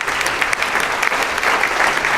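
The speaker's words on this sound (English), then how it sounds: "if we could give them a round of applause" A symposium audience gives a round of applause for volunteers standing in the room, close, dense clapping with distinct individual hand claps throughout.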